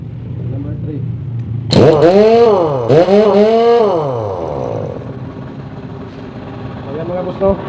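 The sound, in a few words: 1 inch heavy duty pneumatic air impact wrench running at setting 3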